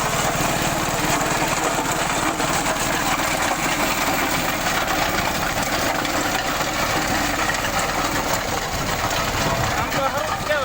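A Massey Ferguson 5118 mini tractor engine runs continuously nearby, a loud steady rattling diesel drone with constant vibration throughout, while a person talks over it.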